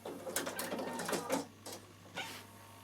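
Bernina sewing machine slowly stitching through thick fabric, a faint close mechanical whir in short bursts that stop and restart between passes.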